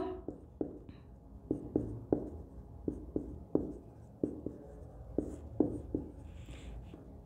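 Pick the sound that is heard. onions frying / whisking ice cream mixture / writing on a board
writing on a board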